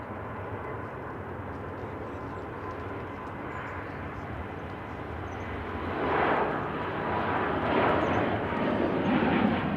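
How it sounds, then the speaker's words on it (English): An Air France Airbus A220-300 jet begins its takeoff run, a steady, broad engine rumble heard from a distance that grows louder and rougher as thrust builds. "Just beginning its takeoff run is an Air France Airbus A200-300, so Airbus A220-300 going to Paris"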